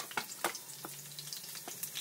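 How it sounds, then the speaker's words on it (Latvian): Ādaži hunter sausages with cheese sizzle and spit in a frying pan, with a steady crackle broken by a few sharper pops and a short scraping stir, no voices. "cepamās desiņas."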